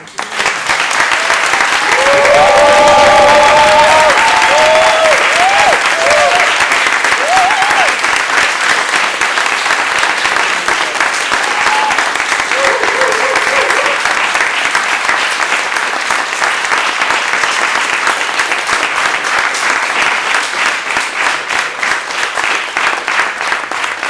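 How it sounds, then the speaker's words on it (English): A large audience at a people's summit against a European gas conference gives a long, loud round of applause, sustained dense clapping with a brief voice near the start, fading slightly toward the end. "And another round of applause, I would say."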